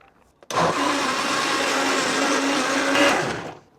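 A mixer grinder whirs to life abruptly and runs at a steady, loud hum for about three seconds, blending ash gourd juice and a pinch of salt into dosa batter, then winds down.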